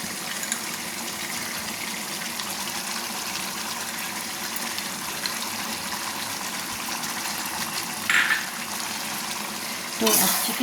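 Chicken darbari with sour yogurt is stirred in a pan, giving a steady close sizzle and wet bubbling with a few louder scrapes near the end.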